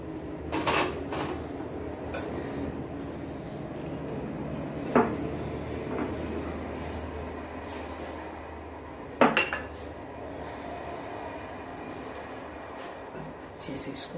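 Sago flour dough being mixed in a bowl, with steady clinks and scrapes of a utensil against the dish and a couple of sharper knocks near the middle and end, close and moderately loud.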